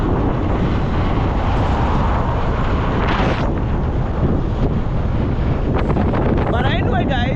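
Strong, steady wind buffets an outdoor microphone near the water, a loud continuous roar throughout, with a voice talking faintly underneath.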